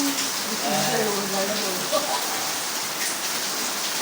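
A steady, loud wash of heavy rainfall in Makati fills the clip evenly, with muffled voices speaking beneath it near the start.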